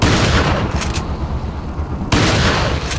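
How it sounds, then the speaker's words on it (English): Shotgun blasts in the video game Resident Evil 4, with loud sharp booms at the start and another abrupt blast near the end, separated by a quieter stretch of lingering game noise. "Actually, I'll use my shotgun."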